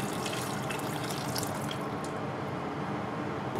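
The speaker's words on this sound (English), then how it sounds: "then pour over some fish stock" Fish stock poured into a pan with white wine and oil, a continuous close liquid splash and gurgle that runs steadily throughout.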